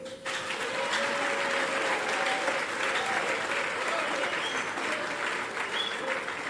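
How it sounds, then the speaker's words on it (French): An audience at an office celebration applauds steadily, a dense wash of clapping that fills the whole stretch at moderate distance, with faint voices mixed in. "j'aimerais que vous acclamez pour eux"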